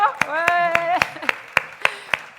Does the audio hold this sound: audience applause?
yes